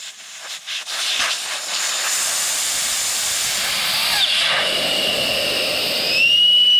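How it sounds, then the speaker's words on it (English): Air hisses out of a Hayabusa motorcycle's front tire after the valve core is removed. The rush of air is steady and close, lasting several seconds, and grows slightly stronger toward the end. "gonna let all the air out. So we're gonna remove the valve."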